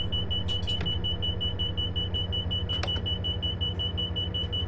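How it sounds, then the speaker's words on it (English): A steady electronic beeping alarm sounds inside a Class 57 Freightliner locomotive cab in Train Simulator 2015, a continuous high tone over the constant low rumble of the idling engine, with a couple of brief clicks. "I don't understand why that beeping is going off."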